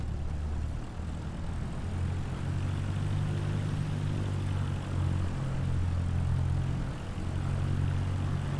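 A propeller aircraft taxis at Goodwood Aerodrome in Microsoft Flight Simulator, with a steady droning engine hum and low throbbing tones that rise slightly and hold, continuous and fairly close.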